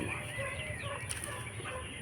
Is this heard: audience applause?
no